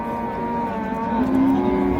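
A purebred cow at a livestock market moos in a steady, drawn-out low call that swells slightly toward the end, heard without speech over faint background noise.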